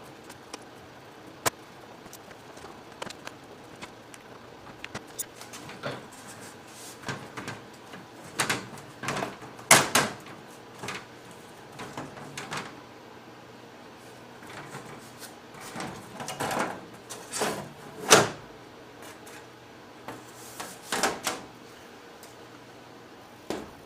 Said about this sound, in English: now I'm going to take the screws out